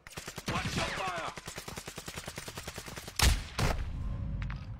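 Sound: gunfire in video game Call of Duty Warzone 2.0

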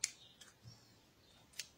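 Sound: scissors cutting crochet yarn

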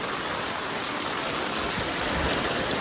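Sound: rushing floodwater stream

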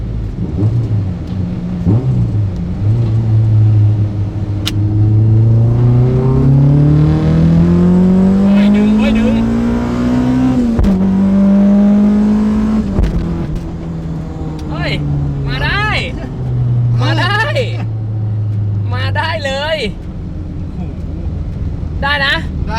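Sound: Honda Civic EK coupe B18/B20 engine revving high

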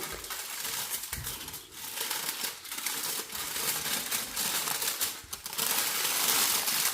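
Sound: meatloaf being wrapped in aluminium foil

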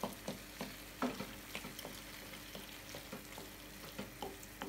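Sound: sauce being mashed with a spoon

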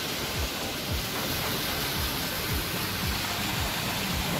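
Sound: artificial concrete waterfall cascade

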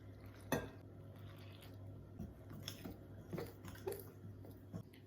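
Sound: fork mixing dough in bowl

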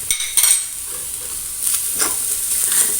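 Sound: stirring sugar and cardamom filling in a pan

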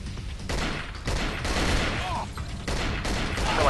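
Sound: gunfire from a weapon in video game Cold Fear

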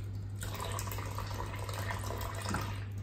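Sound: sprinkling water onto goalkeeper glove palm

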